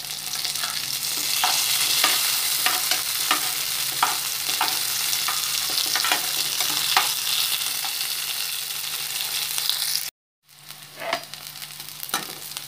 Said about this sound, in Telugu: పోపు కూడా బాగా వేగిపోయింది.